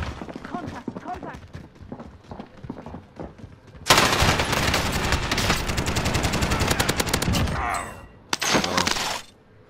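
RPD machine gun in the Warzone video game fires in loud, sustained automatic bursts, a long dense run followed by a shorter burst after a brief gap, with quieter game sounds and talk before it.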